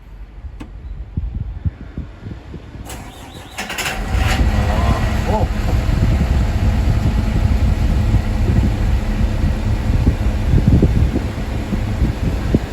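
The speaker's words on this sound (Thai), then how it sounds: "สตาร์ทเครื่องยนต์ดูนะครับ" A heavy SANY excavator engine cranks and catches after a few seconds, then settles into a steady, loud idle that continues to the end, with brief talk near the start.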